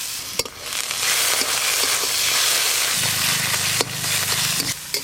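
Ground spices with chopped tomato, cumin, chili, turmeric and salt hit hot oil in a frying pan, a loud continuous sizzle with occasional stirring clinks and scrapes, close up.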